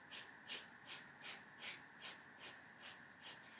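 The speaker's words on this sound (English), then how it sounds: "From here, you're going to do the breath of fire." Breath of fire yoga breathing exercise: about ten rapid, rhythmic forceful exhalations through the nose, evenly spaced and close but quiet, with no talking.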